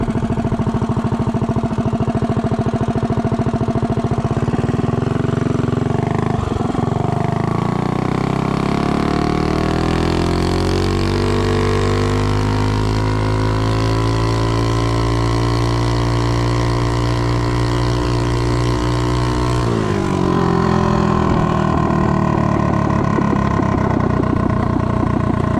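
A Doodlebug minibike fitted with a Juggernaut super 30 series torque converter makes a top speed run, its small engine droning loud and steady as the pitch climbs through a long, sustained pull before dropping back.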